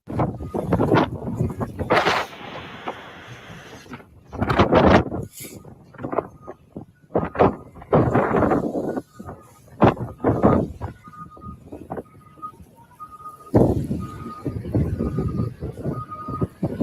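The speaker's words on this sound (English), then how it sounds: "You guys see how windy it is?" Strong wind blasting across the microphone outdoors in Lahaina, loud irregular rumbling gusts that swell and drop over about seventeen seconds, with a faint repeating tone near the end.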